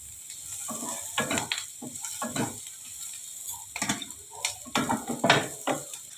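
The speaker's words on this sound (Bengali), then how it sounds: "এটাকে একটু ভালো করে ভাজতে হবে, নয়তো ক্যাপসিকাম আর গাজরটা সেদ্ধ হবে না" Capsicum and carrot frying in a pan for semolina upma, a soft sizzle broken by repeated bursts of stirring and scraping against the pan, close and alone with no talk.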